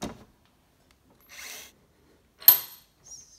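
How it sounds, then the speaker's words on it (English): Power drill driving screws to fix a monitor mount: short separate whirring bursts, three brief drill runs spaced about a second apart with near silence between, fairly close and faint. "we're now just fixing in the bottom ones there and just drilling them in"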